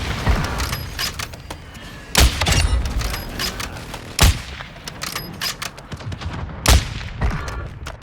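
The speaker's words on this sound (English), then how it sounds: "I just called a precision airstrike on it." A precision airstrike in Call of Duty Warzone, heavy booming blasts landing at irregular intervals among sharp crackling gunfire and debris clatter, loud and close.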